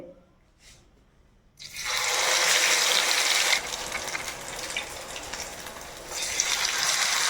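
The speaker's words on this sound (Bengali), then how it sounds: "তো সবগুলো কিন্তু এইভাবেই আমি ভেজে নেব ব্যাটারটার মধ্যে দিয়ে, তারপরে তেলের মধ্যে দিয়ে দেব" Battered potato pieces dropped into hot oil, bursting into a loud, steady bubbling sizzle after a quiet opening that keeps crackling at close range.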